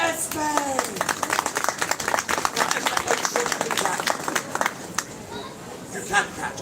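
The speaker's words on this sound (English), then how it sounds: "A round of applause for Esme." Outdoor crowd at a medieval festival in Bridgend town centre claps in an irregular burst of hands, with chatter and a voice mixed in, fading toward the end.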